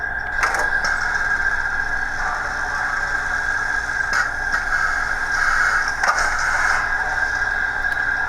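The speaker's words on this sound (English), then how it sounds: "F15 is an air pump." Air pump sound effect from a Piko BR 78 model steam locomotive, a steady hissing, chuffing mechanical drone with a strong tonal band, continuous and close for the whole stretch, with no voices.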